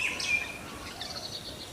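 Birds in village trees after a day of rain give a few faint chirps and short tweets, distant over a soft outdoor hush.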